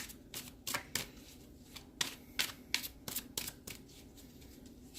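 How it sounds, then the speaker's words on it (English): Tarot cards shuffled by hand before a clarifying card is drawn, a run of quick riffling bursts in an uneven rhythm, close and moderately loud, with no voice over them. "I just want to pull one clarifying card here."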